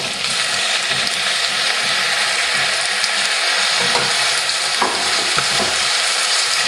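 Brussels sprouts sizzle loudly in olive oil with onions and turkey bacon, a dense, steady frying hiss with scattered pops and stirring scrapes running throughout, no talk.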